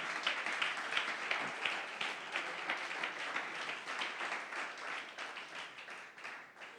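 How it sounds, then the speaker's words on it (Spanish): A church congregation claps together in a sustained round of applause during a sermon, the clapping dense and even throughout before easing slightly at the end. "Dale un aplauso al Señor"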